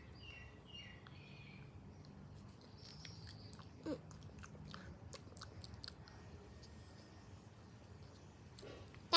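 Someone chews a ruby-shaped gem candy, producing faint, steady mouth and crunch noises close up, with small clicks and a brief louder bite near the end and no talking.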